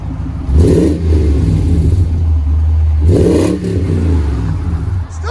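A 2000 Toyota Tundra 4.7L V8 with a 14-inch Magnaflow dual exhaust and 4-inch tips revs twice, each rise a loud, deep roar over a steady, rumbling idle close by.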